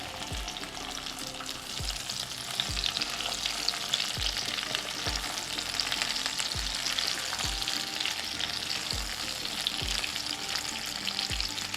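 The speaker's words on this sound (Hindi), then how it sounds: "अब ये जो मसाले से भरे हुए बैंगन है, इन्हें हम डाल देंगे तेल के अंदर" Spice-stuffed brinjals frying in hot oil give a steady, dense sizzle, with a soft regular tapping about once a second running beneath it. No voices are heard.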